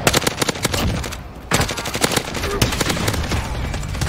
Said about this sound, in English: Oh, people shooting us.